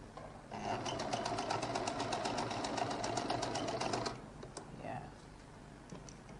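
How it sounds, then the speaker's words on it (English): A sewing machine stitching fabric for a lady's jacket runs in a steady, fast mechanical patter for about three and a half seconds, then stops, leaving quieter handling sounds and brief speech. "So I'll now turn this, stitch this one down properly."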